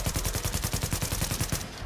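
A SCAR-H rifle in The Division fires a fast, evenly spaced automatic burst of about a dozen punchy, close shots lasting under two seconds, then stops.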